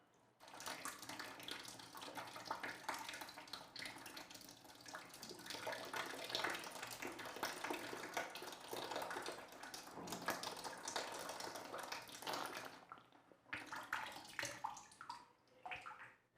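Water flows through the nose during a jala neti nasal rinse, a steady close splashing and trickling that runs for several seconds and then breaks into drips and gurgles near the end.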